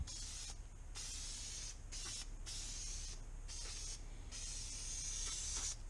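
High-performance spray adhesive hisses from an aerosol can onto leather for a knife strop in several short and longer bursts, close and fairly quiet, with pauses between sprays.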